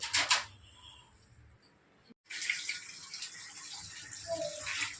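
A steady stream of water pours and splashes nearby, broken by a brief gap, then resumes with a soft hiss and trickle.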